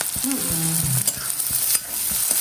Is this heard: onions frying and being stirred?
yes